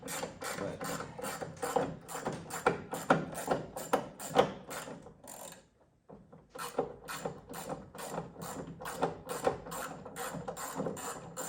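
Hand ratchet working loose the bolts on a Fibertrends car hood: quick, close metallic ratcheting clicks in steady bursts, with a brief pause midway before the clicking resumes.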